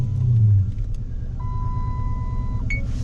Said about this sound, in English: I'm gonna start the car and run it.